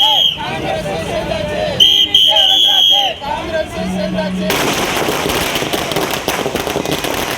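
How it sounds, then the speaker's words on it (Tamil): Firecrackers set off by Congress party members celebrating an election victory in Coimbatore, with rapid crackling bursts and sharp bangs over a crowd's chatter, followed by a dense continuous barrage of popping. "கோவையில் காங்கிரஸ் கட்சியினர் சிலர் பட்டாசு வெடித்து கொண்டாடிய காட்சிகளே இவை"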